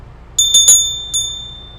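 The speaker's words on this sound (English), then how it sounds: "Ring the bell so you can be notified" A bicycle bell rung close up in three quick dings, a short pause, then one more ring that fades out, loud and bright with no talking.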